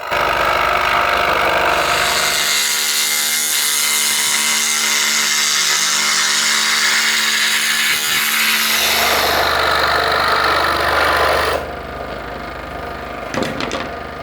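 A Mollar BSS501 scroll saw runs loud and steady while cutting wood, a dense continuous motor drone with the blade's rapid buzz, cutting off near the end into quieter room noise.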